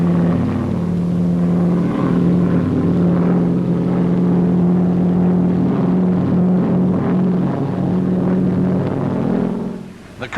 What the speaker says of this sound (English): The Auster Eaglet, the light aircraft par excellence.